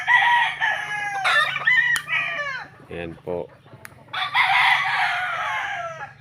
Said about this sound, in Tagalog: Pag tumitilaok po yung mga manok po natin